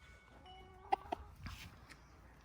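Backyard chickens cluck softly in a yard, two quick clucks followed by faint scratchy movement, fairly distant and quiet.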